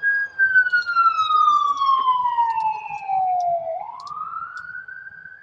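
An emergency vehicle siren passes outside on a main street, its tone sliding steadily down as it moves away, then sweeping back up into a wail, loud and continuous with faint traffic rumble beneath.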